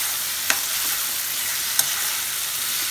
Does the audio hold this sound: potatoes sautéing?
yes